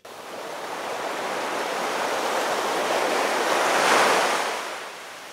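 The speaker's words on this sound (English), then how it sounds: "You can see that I have an ocean background clip on a track." Ocean surf rushes in a continuous wash, swelling to a louder crest near the end before easing back; no voices.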